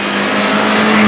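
A loud, steady engine roar fills the moment as a Mini Cooper drives close by, with a constant droning tone.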